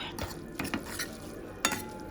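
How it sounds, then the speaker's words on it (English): Noodles sizzle quietly as they are stir-fried in a pan while a utensil scrapes and taps against it a few times, stirring at an irregular pace. "I'm just stir frying it for some time."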